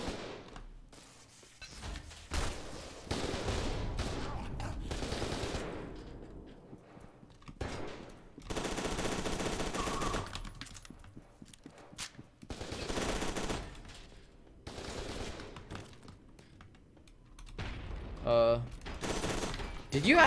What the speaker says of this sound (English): That's just a plasma gun.